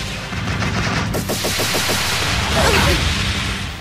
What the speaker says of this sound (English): Brianna, open fire.